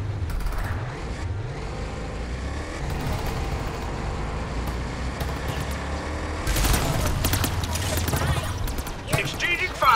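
Gunfire exchange in a video game, bursts of shots under a steady rumble of vehicle engines, rising louder toward the end, with voices calling out over the action.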